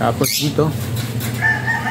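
Chickens crow and cluck inside a chicken-wire enclosure, with a long harmonic crow near the start and short tonal clucks later, close and fairly loud, while someone briefly speaks over them.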